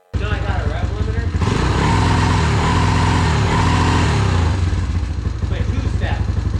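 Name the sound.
Ford Mustang engine revving against the rev limiter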